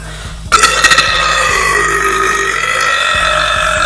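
A girl lets out a long, loud burp right up close, starting with a few short gulping bursts and then stretching into a sustained croak of several seconds.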